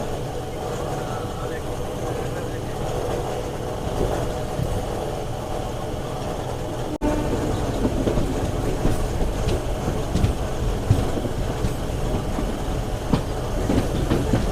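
A MEMU passenger train rolls into Tirupati railway station, its wheels and carriages rumbling and clattering steadily, growing slightly louder partway through. Someone speaks over the noise.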